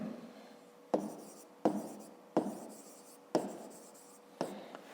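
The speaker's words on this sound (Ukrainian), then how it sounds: "Пишемо." A pen scratches across paper during a fifth-grade math exercise, its strokes coming in a regular series of short scrapes that start sharply and fade. The writing is close and quiet, with no voices.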